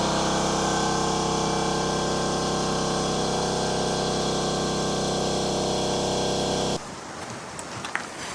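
An air compressor pump runs loud and steady at close range, inflating to about 80 pounds of pressure, a constant droning hum that cuts off abruptly near the end, leaving faint clicks and quiet background.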